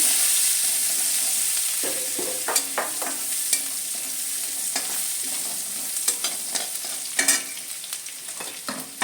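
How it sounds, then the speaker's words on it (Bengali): Chopped garlic frying lightly in a pan with cumin, a steady soft sizzle running throughout, broken by repeated scraping and clacking strokes of a stirring spoon against the pan; no voices. "এখন দিচ্ছি রসুন কুচি। একটু হালকা ভেজে নিচ্ছি।"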